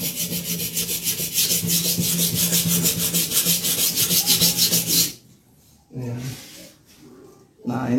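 A slaughtering machete (golok sembelih) is sharpened by rubbing its blade against a stainless steel bowl, giving a loud, steady, rhythmic scraping that runs continuously and then breaks into a few shorter strokes.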